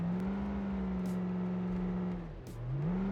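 A big jeep engine in BeamNG Drive idles and rumbles at low speed with a deep, steady drone, briefly dipping in pitch before rising again, heard alone and fairly quiet.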